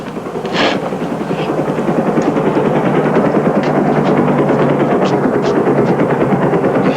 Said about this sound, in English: Helicopter! It's landing right here.